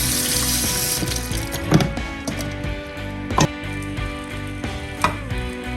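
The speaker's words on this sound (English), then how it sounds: "Just wash them out." Raw cow feet rinsed under a running kitchen tap, with a steady broadband wash of water and a few sharper knocks and clatters as the pieces are handled in the sink.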